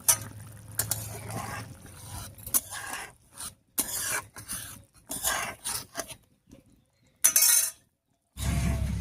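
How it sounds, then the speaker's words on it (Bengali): Chhana and tomato curry being stirred in a pan with sugar and ghee, giving intermittent scraping and clinking of a spoon against metal in uneven bursts, with brief silent pauses between strokes. "চিনি আর ঘিটা দিয়ে নাড়িয়ে নিয়েছি।"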